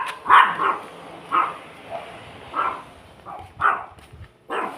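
Several puppies bark and yip in short, sharp bursts, close by and irregular, with brief pauses between yelps and no speech.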